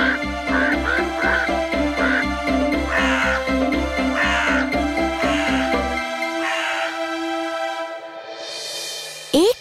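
Cartoon crows caw in a garden, a run of rhythmic, evenly spaced harsh calls up close that stop abruptly partway through, leaving a quiet tail.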